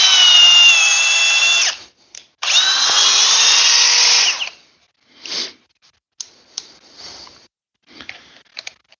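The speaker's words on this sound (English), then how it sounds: "I love this drill, by the way. This is my daily driver." Power drill whirring loudly up close in two sustained runs with a falling whine as it stops, then scattered clicks and brief handling noises.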